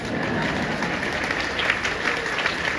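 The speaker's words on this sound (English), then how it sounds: "Go ahead, clap." A large convention panel audience claps steadily, dense and continuous applause at a moderate level with no voices over it.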